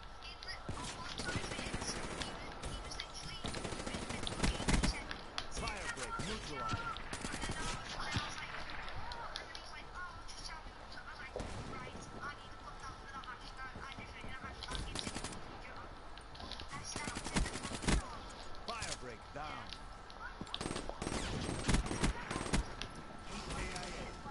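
Bursts of video game gunfire, rapid rattling automatic shots recurring throughout, mixed with other game effects and occasional talk.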